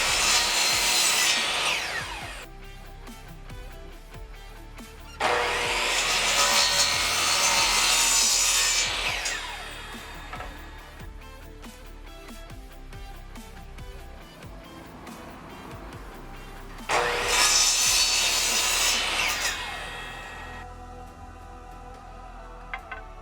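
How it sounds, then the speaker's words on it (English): A hand saw cuts through wooden 1x2 boards in three long bursts of rasping back-and-forth strokes, with quieter pauses between them, as the ends are chamfered at 45 degrees. "The 36 inch 1x2s will then be chamfered at 45 degrees on each end."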